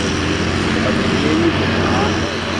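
Valtra tractor working hard at a tractor pull, a loud sustained engine roar that holds steady across the whole stretch, with talk mixed in under the noise.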